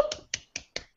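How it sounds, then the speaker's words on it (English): Sharp finger snaps from a live podcast anniversary show, five crisp clicks in an even rhythm about a quarter second apart, close and isolated with silence between them. "Snaps."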